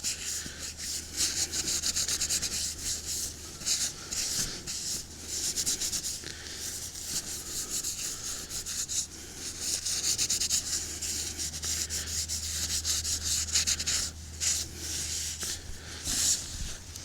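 A brush scrubs seam sealer into the seams of a Lanshan 2 Pro tent, making close, repeated scratchy rubbing strokes in irregular bursts over a low steady hum, with no talk.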